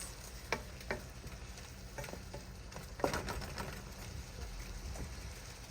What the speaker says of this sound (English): I'm going to just go ahead and mix everything together